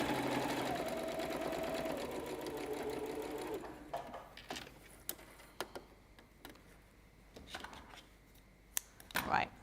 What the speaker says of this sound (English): So I'm just going to stitch this together